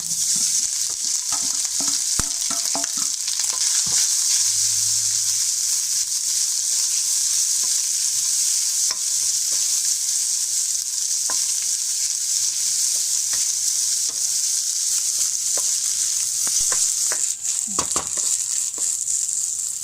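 Grated coconut filling for Thai khanom thian roasts in a pan with a little vegetable oil, producing a steady, loud sizzle throughout, punctuated by occasional spatula taps and scrapes.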